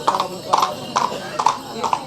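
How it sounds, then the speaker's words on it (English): Horses at a large horse fair in Golegã, Portugal, clip-clop in a steady, even rhythm of about five paired hoof strikes, close and loud, with a whinny and people talking in the background. "There's going to be lots and lots of horses at this fair as we get closer and closer."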